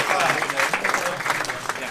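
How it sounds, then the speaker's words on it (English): Conference attendees at Brewcon 2018 give themselves a round of applause after a talk on hops, a brief, dense patter of clapping from a room full of people. "give yourselves a round of applause"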